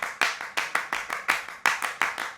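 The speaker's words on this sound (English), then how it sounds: "But it's just several tracks of me clapping layered together." Several layered recordings of one person's hand clapping, dry with no reverb, land as sharp, close claps in a steady rhythmic pattern of about ten hits.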